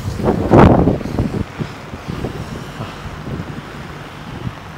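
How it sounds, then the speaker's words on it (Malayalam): Very strong wind buffets the microphone during rain near the Gangavali river, a loud gusting rumble at first that settles into continuous low roaring with intermittent thumps. "ഭയങ്കര കാറ്റ്. അതിഭയങ്കര കാറ്റ്."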